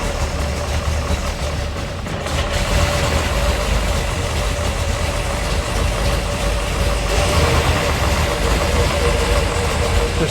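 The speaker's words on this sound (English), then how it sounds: "Just listening to this choppy idle, it gets you so wound up." A 1967 Chevrolet Corvette L88 with a 427 engine idles with a choppy, lumpy rhythm at around 700 RPM, a loud, close, steady rumble with a faint voice over it briefly.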